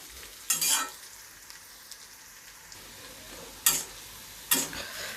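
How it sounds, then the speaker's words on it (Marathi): Quiet steady sizzle of onions frying in a pan, broken by three sharp scraping strokes of a spatula stirring them. "कांदा आपला चांगला हलकासा भाजून झालेला आहे"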